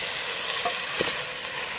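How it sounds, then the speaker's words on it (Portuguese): Beef ribs sizzle in a pan, with a steady soft frying hiss and a couple of brief stirring clicks. "A costela já está na panela aqui"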